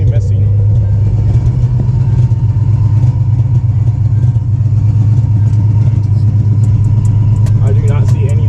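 A Nissan 300ZX engine idles loudly and close up with a heavy, continuous low rumble and an uneven, stumbling pulse from a misfire, with a person talking over it.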